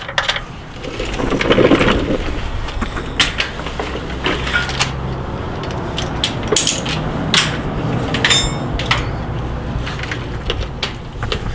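A cordless impact wrench drives transmission bolts on a 6T70 automatic transmission being installed without a vehicle lift, with repeated sharp rattling bursts close by over steady background noise.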